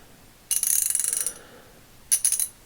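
A vintage Wizard H2833 ratchet from Western Auto clicks in two quick runs of sharp, close metallic ticks, a longer burst followed by a short one.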